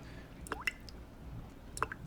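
Water dripping inside a 1920s Berlin sim in Second Life, a few clear, close plinking drops with short squelchy splashes over a quiet low background.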